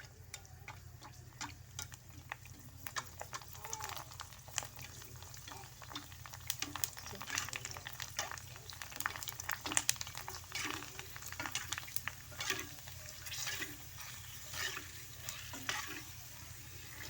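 Food frying in hot oil in a home kitchen, a steady soft crackle with scattered sharp ticks and stirring clatter, fairly quiet and continuous with no talk.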